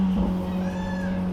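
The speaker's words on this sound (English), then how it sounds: "Peacock does not like the car." A peacock gives a faint, drawn-out wailing call from outside a Ferrari F8 with a full Boden exhaust system, partly masked by the car's steady low engine drone.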